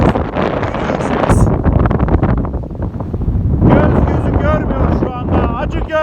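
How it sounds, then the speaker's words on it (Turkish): Strong gusting wind of a sandstorm roaring across the microphone, loud and close, with a person's voice talking over it in Turkish, at Acıgöl, Turkey. "Kum fırtınası şu anda bizi esir aldı."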